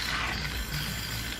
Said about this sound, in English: I'm gonna milk froth it up.